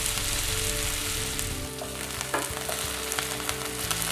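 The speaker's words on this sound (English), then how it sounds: "Into a medium-high pan, I'm adding my olive oil and I'm starting to fry off my potatoes." Potatoes fry in olive oil in a pan over medium-high heat, giving a dense, continuous sizzle with occasional faint stirring scrapes, close and steady throughout.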